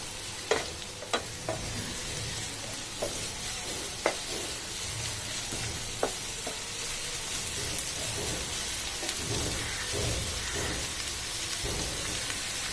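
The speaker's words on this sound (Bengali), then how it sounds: "ভালো করে নাড়াচাড়া করে এটাগুলোকে ভেজে নেব।" Red and green capsicum fry in a pan for a restaurant-style crispy chicken starter, a soft continuous sizzle broken by sharp clicks and scrapes as a utensil stirs, with no voices.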